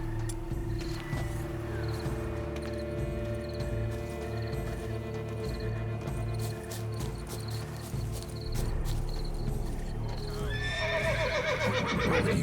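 Horse in the video game The Witcher 3: Blood and Wine gives a loud, shaky whinny near the end, preceded by a steady ambient hum with hoof clops and game background sounds.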